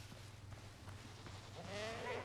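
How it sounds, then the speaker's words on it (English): Goats bleating in the survival game Windrose, a short wavering bleat rising near the end over a low steady background hum. "the male goats here are really a problem in the beginning"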